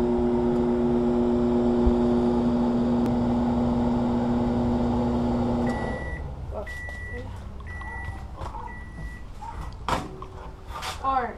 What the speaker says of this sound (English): you're going to want to put it in the microwave